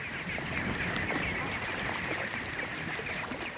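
Rice paddy ducks crowding in for grain, a steady chorus of quacks and honks close by, continuous and busy throughout with no talk.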